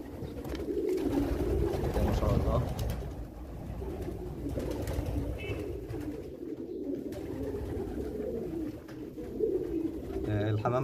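Pigeons at an Egyptian meat-pigeon farm coo in steady, overlapping low calls close by, with voices of people talking mixed in.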